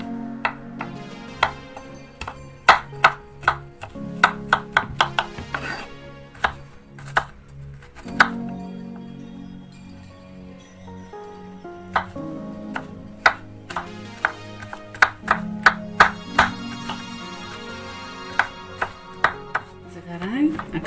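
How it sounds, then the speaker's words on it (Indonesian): A knife chops garlic on a board in irregular bursts of sharp, close taps, some quick runs and some single strikes, over quiet background music. "Bawang putihnya potong untuk nanti ya."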